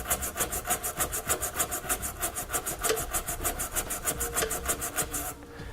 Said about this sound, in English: Then I'm going to come back with a nylon tube brush. I'm going to clean it out to make sure that we don't have any rust or debris